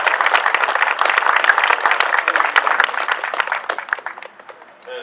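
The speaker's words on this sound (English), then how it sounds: "You can clap for him because he helps a lot." A crowd claps steadily in dense, continuous applause that holds strong for several seconds, then thins out and fades toward the end.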